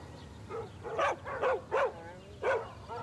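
A dog gives a run of short, whining barks and yips mixed with whimpers, about six distressed calls spaced unevenly over three seconds, fairly close against a low background hum.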